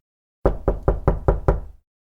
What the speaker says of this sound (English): Death knocked on the door in the late afternoon.